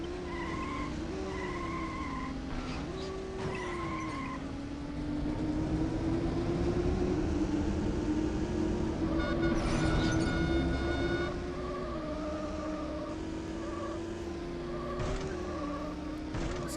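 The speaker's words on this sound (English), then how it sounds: "I can hear the loop in the engine track." A looping car engine from the racing game Need for Speed II SE holds a steady droning hum whose pitch dips and climbs, with brief screeching, skid-like tones layered on top throughout.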